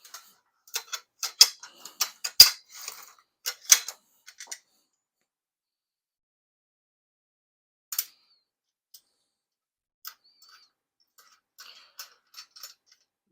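Bolts being tightened by hand on a VEVOR convertible hand truck, with a quick run of light metallic clicks and taps up close, then a few sparse isolated clicks over a quiet background.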